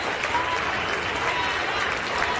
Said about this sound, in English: Everybody's clapping for you.